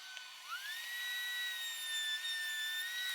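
A router table bit spins up to a high, steady whine while cutting into a plywood edge, the tone rising quickly and then holding evenly, close and fairly loud with no voices.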